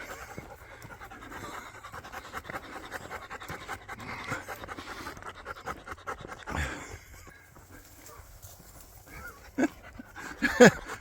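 A dog pants rapidly and steadily at close range while out on the Cotswold Way trail, with faint whimpers and a few louder bumps toward the end.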